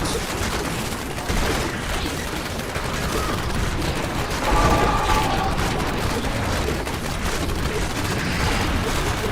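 Dense bursts of gunfire and rumbling explosions in the video game Diablo 3 blend into a continuous chaotic battle din, loud and sustained with a heavier boom near the middle.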